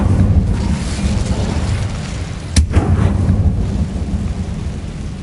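Incendio fire spell cast in Hogwarts Legacy, heard as a sharp crack followed by a whooshing, rumbling burst of flame over a constant low roar of ambient game sound.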